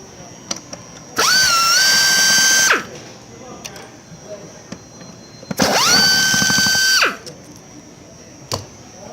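A power drill backs screws out of the seat mechanism on a CXO seat. It gives two loud whirring bursts of about a second and a half each, with scattered clicks and handling noises between them.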